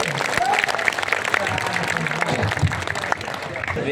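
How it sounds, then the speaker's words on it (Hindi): Audience applause at a Hindi kavi sammelan (poetry gathering) held as a death-anniversary memorial in Mungwali, a steady crowd clapping that runs throughout with a voice speaking over it. "तो एक बार दोनों हाथ खड़े करके तालियां बजाइए"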